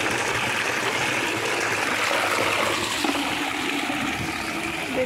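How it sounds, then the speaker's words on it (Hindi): Water splashes and streams steadily while clothes are washed by hand, a continuous close rushing and trickling sound with no pauses and no speech. "देखिए कपड़ा धो रहे"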